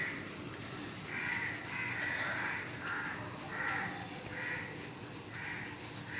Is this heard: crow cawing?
yes